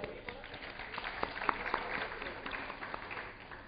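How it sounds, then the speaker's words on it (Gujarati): An audience applauds at the Dhara Gurjari award function in 2010. Steady, fairly quiet clapping from a crowd goes on throughout, with scattered sharper claps in a large hall. "જોરદાર તાળીઓથી વધાવી લઈએ"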